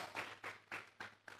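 A church congregation claps together in a series of about five rhythmic bursts, moderately close and fairly quiet, with no talking over them.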